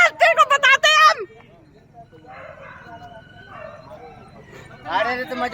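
Dogs barking and yelping inside a government animal birth control centre, loud sharp barks at the start and again near the end, with fainter whimpering and voices in between.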